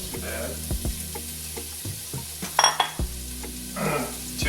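Two cups of chopped carrots sizzle in a pot for soup, a steady frying hiss broken by clinks and scrapes of a utensil against the pot, with a low hum underneath.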